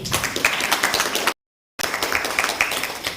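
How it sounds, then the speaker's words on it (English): Audience at a summer school closing ceremony on optics and lasers applauds a participant, a dense burst of clapping that cuts out briefly before resuming just as strong. "Let's clap for Jared."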